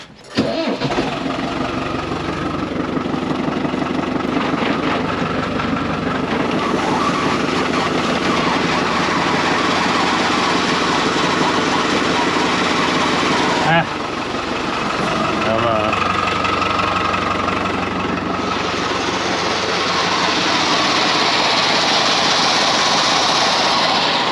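A farm tractor's engine runs steadily in second gear during dryland wheat spraying, a loud, continuous mid-pitched drone that shifts briefly mid-way, with people talking over it.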